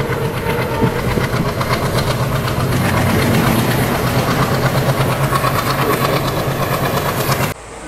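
An ALCO WDM3A diesel locomotive hauls a passenger express, its engine chugging loudly and steadily beneath continuous clickety-clack of the rails, with no talk.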